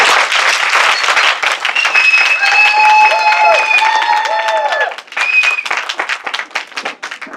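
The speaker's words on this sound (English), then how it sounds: "Please extend to Holly a warm round of applause" An audience claps warmly and continuously as a speaker takes the podium at a professional association chapter event, the applause swelling then tapering, with a few tonal whistles over it.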